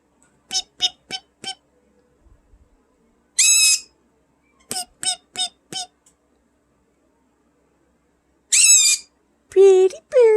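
A pet parrot squawks and chirps in short bursts, mixing quick clipped calls with longer harmonic squawks and a garbled talking-like phrase near the end, close and alone in a quiet room.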